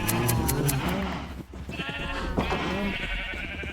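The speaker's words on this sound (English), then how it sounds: "Sheep, I'm warning you again," Sheep bleating in the video game Minecraft, wavering bleats at close range that repeat and overlap across a few seconds, with a brief dip in the middle.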